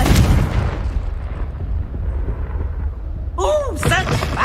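A Confringo fire spell in Hogwarts Legacy bursts into a booming blast with rumbling low crackle, followed by a brief whooshing flare and a character's shouted voice near the end.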